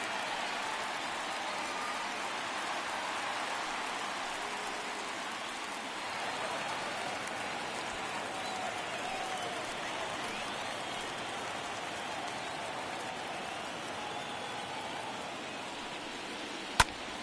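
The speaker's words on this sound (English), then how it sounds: "you can feel this crowd waking up a bit here" Baseball stadium crowd in the video game MLB The Show 22 during a World Series game, a steady, broad wash of distant crowd noise holding evenly throughout, with a brief sharp click near the end.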